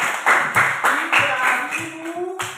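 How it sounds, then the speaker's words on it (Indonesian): A classroom of students clapping hands for a classmate's correct answer during a lesson, a few loose rhythmic bursts of clapping with voices talking over them. "Ya, silakan tepuk tangan."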